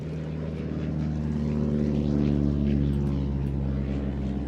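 A vintage light aircraft's 150-horsepower Menasco propeller engine runs steadily, a loud, close, droning roar with a strong low hum that holds constant throughout, no talk over it.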